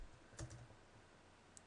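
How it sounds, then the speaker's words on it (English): A few quick key taps on a computer keyboard, entering a place name into an ad-targeting search field, with a short cluster of clicks followed by one more isolated tap, faint and close. "let's just type in something like Alberta"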